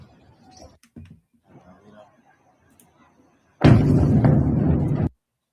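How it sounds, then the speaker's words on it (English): Explosions from systematic bombing of targets in a capital city: a loud, sustained roaring blast lasting about a second and a half, following faint murmuring voices and scattered soft knocks. "El bombardeo sistemático en contra de varios objetivos selectivos en la ciudad capital."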